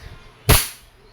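A KWC 1911 Tactical airgun fires one shot, a single sharp crack that decays quickly over quiet room tone.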